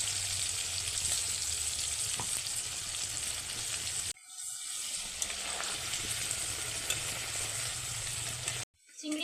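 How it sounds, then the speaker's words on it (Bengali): Shrimp deep-frying in plenty of oil, a dense, loud crackling sizzle that runs steadily, drops out briefly midway, resumes with occasional utensil knocks, and cuts off near the end. "চিংড়ি মাছগুলো খুব সুন্দর লালচে লালচে কালার করে ভাজা হয়ে গেছে"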